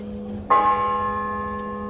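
A church bell in Sandomierz, Poland, strikes once with a clear metallic clang. The tone rings on and slowly decays over a low steady hum, with no voices.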